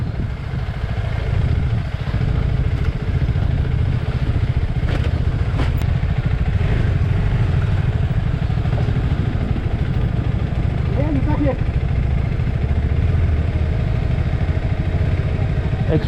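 Hero Xpulse motorcycle engine running steadily while the bike crosses a river on an off-road trail, a continuous loud rumble with clatter and splashing, voices talking over it.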